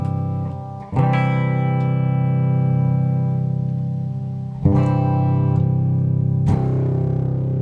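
Bright, chiming guitar chords ring out through a Sunn Spectrum 1 amplifier, struck three times and left to sustain with shimmering harmonics and slight effects.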